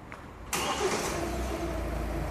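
A Hyundai Tucson engine cranks briefly and catches, then settles into a steady close idle.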